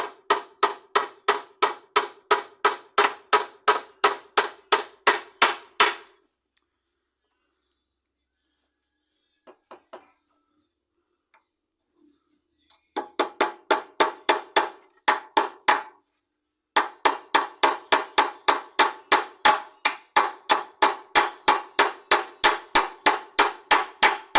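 A tiny hammer taps nails into wood during a workbench build in steady rapid strikes, several runs of sharp close knocks broken by short quiet pauses.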